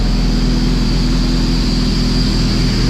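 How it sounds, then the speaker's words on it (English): A Kawasaki Z900RS motorcycle on a dyno drum, traction control off, roars loud and steady as its rear tire spins, a constant engine drone with a high whine over it, no voices. "It starts to spin the tire again."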